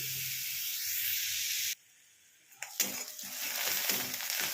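Onion frying in a pan for egg korma gives a bright, steady sizzle that cuts out for about a second, then returns with crackles and stirring scrapes, fairly faint and without speech.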